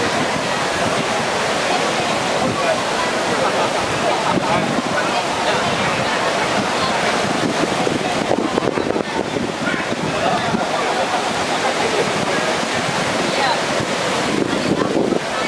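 Sea waves washing onto the sandy beach at Koh Samet, Rayong, Thailand, a steady broadband surf roar mixed with wind buffeting the microphone, continuous and loud throughout.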